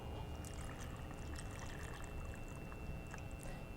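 Water pours from a cup into a blender cup, a faint, steady splashing gurgle that runs continuously for a few seconds with no voices.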